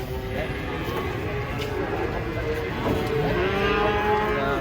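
A nearby cow lows while cattle come down off a truck. The drawn-out call rises midway through, partly under people talking and steady crowd noise.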